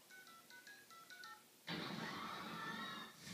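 Telephone keypad dialing tones from a Family Guy clip: a quick run of about eight short beeps, followed by a louder, steady hiss-like line tone.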